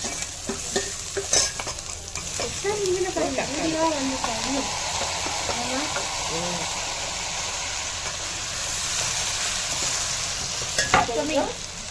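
Onions frying in a pan, a steady sizzle with stirring scrapes and a few sharp clinks, while a person talks over part of it.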